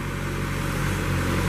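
The Cat engine of a 2005 Princeton PBx piggyback forklift runs at a steady idle, a constant low mechanical drone that holds close and even without revving.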